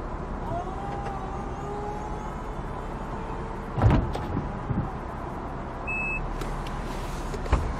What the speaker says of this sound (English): And then at about 20 seconds, the top goes down